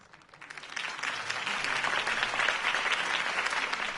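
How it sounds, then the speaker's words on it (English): A crowd claps after a campaign speech in the Batman video game from Telltale, the applause swelling quickly into a steady, dense roar of many hands that continues throughout. "If only Mr. Wayne, my campaign's largest backer, could have heard that applause"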